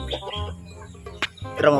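Several short, busy clucks from chickens close by, with a brief sharp burst in the middle and a louder flurry of clucking at the end.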